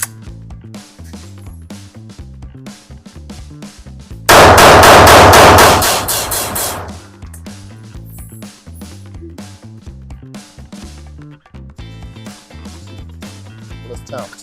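Rapid shots from a Springfield Prodigy pistol at a shooting range, fired as a magazine dump in one loud, dense burst of about two seconds. Scattered single shots and clanks come before and after, with people talking nearby.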